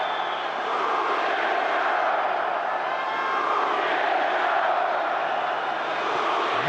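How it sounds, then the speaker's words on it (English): A packed football stadium crowd at Russia v Slovenia keeps up a dense, steady roar of chanting and cheering from start to finish, loud and unbroken. "They haven't managed to quieten the crowd yet, despite all their early opportunities, Slovenia."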